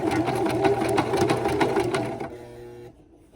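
A sewing machine stitches a fabric hem at close range, running in a fast, steady rhythmic chatter for about two seconds, then slowing and stopping.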